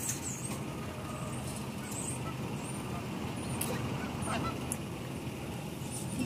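Ducks or geese at a park give a few short honking calls at a moderate distance over a steady low rumble that sounds like traffic.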